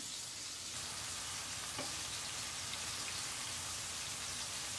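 Seasoned fish fillets blacken seasoned side down in a hot pan, giving a steady, quiet, rain-like sizzle that hisses evenly throughout with no talking.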